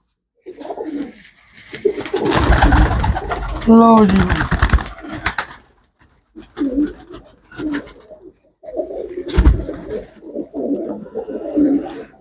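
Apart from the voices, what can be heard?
pigeons cooing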